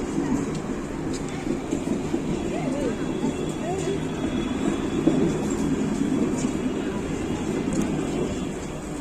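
A metro train rumbles steadily nearby with a low roar and faint squeals, mostly continuous and moderately loud, with no one speaking.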